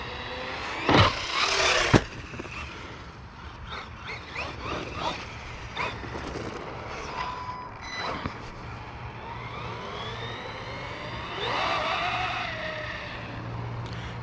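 A Losi Lasernut RC truck running on Traxxas Hoss wheels and tires, driving and landing off a ramp. Two sharp landing impacts come early, then a steady motor whine with several faint knocks and a rising whir near the end.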